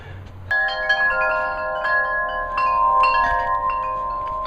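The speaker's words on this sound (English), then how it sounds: "These are the earthquake chimes." Wind chimes ring out during a California earthquake, sustained metallic tones struck repeatedly with overlapping decays, clear and close with no talking.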